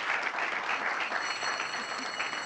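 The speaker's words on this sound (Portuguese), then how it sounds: "os expositores a aplaudem de pé" A standing audience at a public hearing on artistic and cultural freedom of expression claps in dense, sustained applause, steady and fairly loud from start to finish with no pauses.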